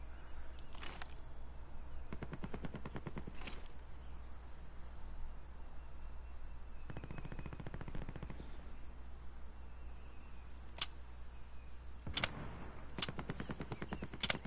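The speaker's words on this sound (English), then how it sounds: "This single fire light machine gun." Single shots from a light machine gun in Warzone, fired as sharp cracks, sometimes alone and sometimes in quick short strings, somewhat distant over a low constant hum.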